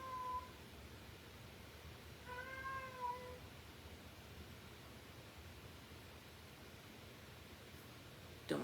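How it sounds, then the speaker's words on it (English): A pet cat meows once, the brief cry standing alone against a steady low hiss of background noise; a short soft bump follows near the end. "Don't mind my cat, everyone. He's just chiming in."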